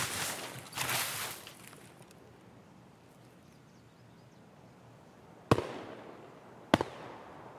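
A grenade blast in the video game Escape From Tarkov, a loud burst with a rumbling tail near the start, then quieter ambience broken by two sharp, close bangs.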